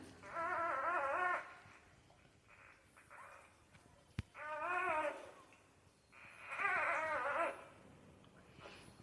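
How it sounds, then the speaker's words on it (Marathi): Newborn puppies, born the night before, whimper while nursing. Three faint, high, wavering whines rise and fall, separated by quiet pauses with soft shuffling and one sharp tap. "बघा कसे सगळे दूध पीत बसलेत काल रात्री जी व्यालेली आहे मित्रांनो खूप सुंदर छोटे छोटे पिल्ले आहेत"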